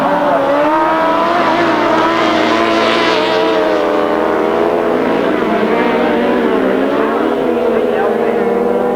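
Grasstrack motorcycles racing at a 1993 meeting, a steady loud engine drone with rising and falling pitch as the bikes pass, continuous throughout, with commentary spoken over the top.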